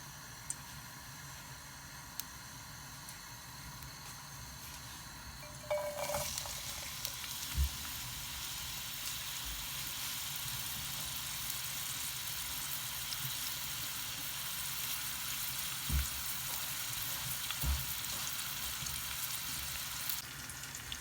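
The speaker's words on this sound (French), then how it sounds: "On va frire les oignons, les frites, les petits pois. On fait chauffer l'huile. Je vais mettre les oignons d'abord en premier." Onions frying in hot oil in a pan, a steady soft sizzle running throughout with a louder burst a few seconds in as they hit the oil.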